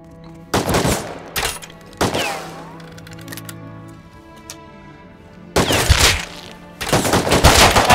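Gunfire in the video game Rust comes as loud, close bursts of rapid shots, several volleys split by short quiet gaps, with no talk over them.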